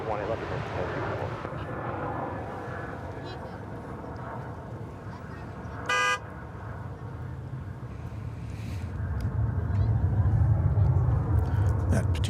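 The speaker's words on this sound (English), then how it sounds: "There you see a Delta plane, Delta Flight 1209, an A220-100, off to Minneapolis" A Delta Airbus A220-100 at Dallas/Fort Worth Airport, bound for Minneapolis–St. Paul, drones as a steady jet rumble that swells into a louder, deeper engine roar near the end. A voice speaks over it, and a brief electronic beep cuts in midway.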